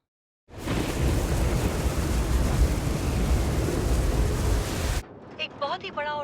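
A very large, powerful storm moving northeast along a peninsula: a loud, steady roar of storm noise fills most of the stretch, cutting off abruptly, after which a voice speaks.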